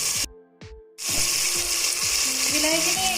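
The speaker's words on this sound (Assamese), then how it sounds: "বিলাহীখিনি মই এতিয়া অলপ কোমল হোৱালৈকে ভাজিম।" After a brief mechanical ratcheting and a short gap, tomatoes fry in a pan with a steady close sizzle, joined by faint clicks and scraping.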